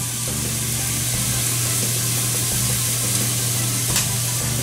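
Seafood sizzles steadily in olive oil in a pan for a quesadilla, a loud continuous frying hiss close by with faint scrapes and a brief spitting burst near the end.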